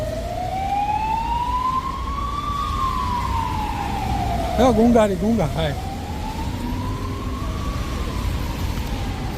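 An ambulance siren in a city abroad wails in long slow rising and falling sweeps over street traffic noise, while someone speaks briefly partway through.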